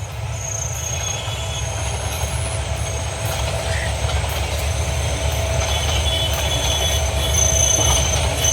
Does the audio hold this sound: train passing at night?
yes